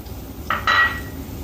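A spoon whisks yogurt with ground garam masala and coriander powder in a bowl, giving two short, close metallic clinks against the dish in otherwise quiet surroundings.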